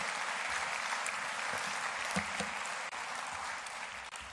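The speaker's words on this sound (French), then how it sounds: "Je vous remercie de vos applaudissements pour cette très belle délégation industrielle." An audience applauds an industrial delegation at a regional industry conference, a sustained wash of many hands clapping at moderate distance, fairly even with a few louder claps poking through.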